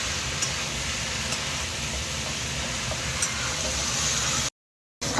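Meat being fried and stirred in a pan for a Bengali kosha, a steady broadband sizzle that runs evenly and close without a break, then cuts out briefly near the end before resuming.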